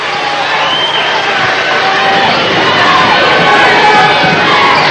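A basketball game crowd cheers and roars steadily in a busy gym with a band playing, a loud continuous wall of shouting voices that swells slightly toward the end.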